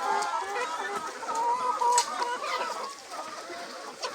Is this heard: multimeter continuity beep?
no